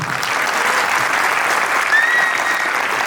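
Audience applause fills a theatre after an evening performance, a dense, steady clapping that holds loud and even for about three seconds, with a faint whistle or cheer rising briefly near the end.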